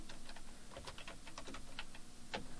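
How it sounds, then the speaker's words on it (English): Quiet, rapid typing on a computer keyboard, an irregular patter of light key clicks close by with no talking. "You could start by typing"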